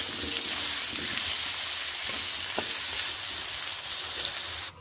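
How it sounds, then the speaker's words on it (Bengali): Potato pieces seasoned with salt and turmeric fry loudly in a hot pan for making dhaba-style ghughni, a dense, continuous sizzle with a few stirring knocks that cuts off abruptly at the end, and no voices. "নুন হলুদ গুঁড়ো মিশিয়ে আলুগুলোকে"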